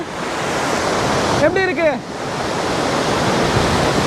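A waterfall in Pakistan roars with a constant, broad rushing wash of water, and a voice briefly speaks over it midway before the steady roar carries on alone.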